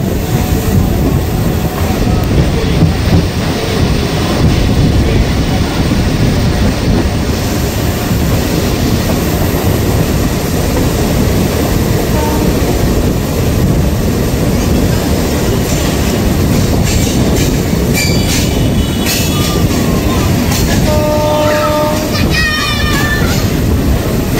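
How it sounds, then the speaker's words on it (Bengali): A Krishnanagar–Amghata local passenger train on its inaugural run rounds a curve, giving a loud, steady rumble and wheel clatter throughout, with faint high squeals near the end. "কৃষ্ণনগর সিটি আমঘাটা লোকাল এখন এগিয়ে চলেছে আমঘাটার স্টেশনের উদ্দেশ্যে সুন্দর একটি কার্ভের মধ্যে দিয়ে"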